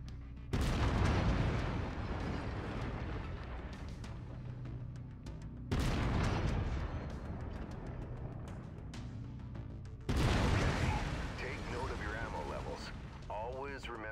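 Heavy autocannon bursts from a mech in Mechwarrior 5, three loud booming volleys a few seconds apart, each trailing into rumbling mechanical noise with a voice speaking over it.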